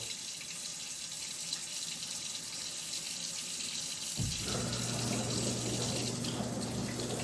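Hands are washed under a running tap, a steady close rush of water that grows fuller partway through, with no talking.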